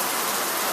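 Steady rain pours in Huntington Beach, a dense, even hiss of drops on surfaces filling the whole brief moment up close.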